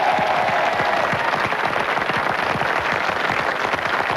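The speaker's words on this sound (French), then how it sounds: "Quelques applaudissements pour nos 2 équipes" A television game show studio audience applauds its two competing teams, dense steady clapping filling the room throughout, fairly loud and with no voices over it.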